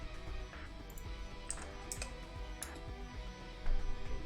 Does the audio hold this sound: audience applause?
no